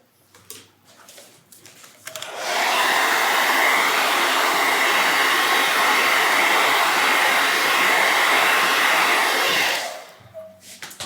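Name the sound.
hair dryer blowing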